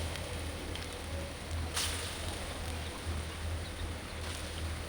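Red amaranth leaf pakoras frying in a moderate amount of oil in a pan, a steady close hiss and crackle of bubbling oil that holds throughout with no voices.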